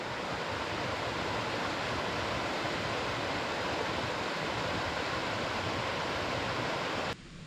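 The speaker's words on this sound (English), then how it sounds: "Shaw Creek's starting to get a little bigger." Shaw Creek in the Bob Marshall Wilderness rushes past close by, a loud, steady wash of flowing water with no voices that cuts off abruptly just before the end.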